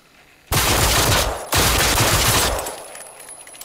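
Shotgun blasts in Generation Zero: two loud, close, sustained explosive bursts about a second apart, each with a long ringing tail, and no talking over them.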